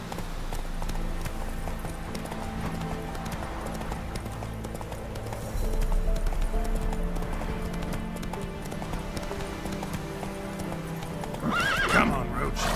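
Roach, a horse in a video game, clip-clops at a steady gallop with loud hoofbeats and snorts, ending in a clear whinny near the close over a background music bed.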